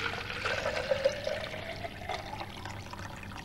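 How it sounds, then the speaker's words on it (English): Water pours steadily into a plastic soft drink bottle hung from a bar, a continuous close splashing and trickling fill with no voices. "Now I'm going to fill that with water"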